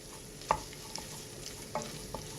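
Tomato puree being stirred into a low-fat vegetarian sausage casserole in a pan, a few soft scraping knocks of the spoon over a faint, steady sizzle.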